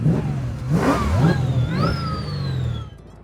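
A 1969 Chevelle with a supercharged LS V8 revs repeatedly in several quick climbing pulls, with a loud, close engine and a rising supercharger whine, then settles before cutting off.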